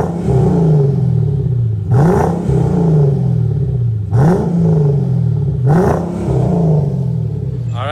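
A powerful V8 car engine revs hard three times, each sharp blip rising then falling back to a deep, rumbling idle; loud and close.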